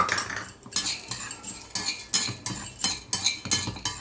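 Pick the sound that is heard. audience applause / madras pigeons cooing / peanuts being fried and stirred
peanuts being fried and stirred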